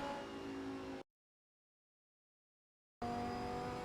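Steady Lamborghini Huracan engine drone from a driving video game mod, cut by about two seconds of silence before the same hum returns.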